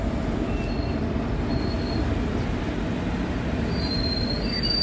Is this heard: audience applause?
no